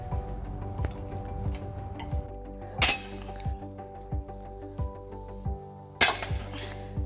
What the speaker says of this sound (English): make sure you cut the remaining wire on the flange nuts with tin snips